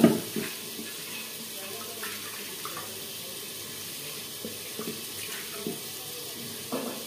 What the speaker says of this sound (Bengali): প্রথমে ডালটা ধুয়ে নিচ্ছি